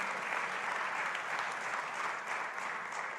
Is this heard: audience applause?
yes